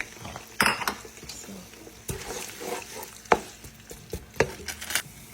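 Onions hit hot oil for a Nigerian egusi soup with goat meat, a close sizzle mixed with repeated sharp clinks and scrapes of a utensil stirring against the pot, with no voices.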